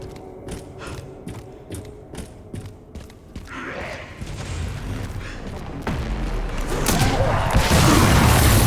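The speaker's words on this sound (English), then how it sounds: "Are you getting mortar shelled?" Mortar shelling in a zombie video game: a run of evenly spaced mechanical ticks gives way to deep booms and a rising, roaring rumble that grows louder toward the end.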